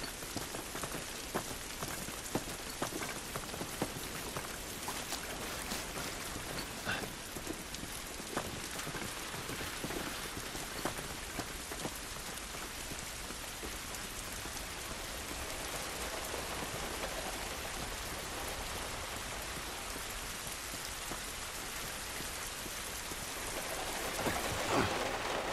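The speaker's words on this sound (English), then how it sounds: "This rain ain't gonna do us any good." Steady rain pours in the video game The Last of Us, a dense continuous hiss of drops on surfaces that stays even throughout and swells slightly near the end.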